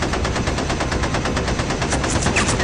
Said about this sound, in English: He flies across in the direction of the tail gunner, Charles Cab, who fires away